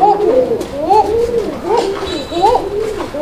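Pigeons at a market coo close by in repeated rising-and-falling throaty calls, about three or four phrases in a few seconds.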